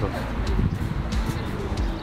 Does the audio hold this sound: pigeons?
yes